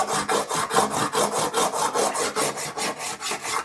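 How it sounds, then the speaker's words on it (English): An ordinary metal file scrapes high spots off a hammer-formed metal panel on a kit car, in about fifteen quick, even back-and-forth strokes. The rasping is close and steady, with no talking. "get a file and we'll start filing the high spots off"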